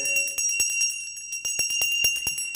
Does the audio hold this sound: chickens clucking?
no